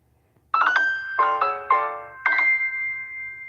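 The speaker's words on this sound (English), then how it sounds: "Got notifications for something." Notification chime ringing out four times in quick succession, bright layered tones with a clean sustained tail on the last, alone over faint background hiss with no talk.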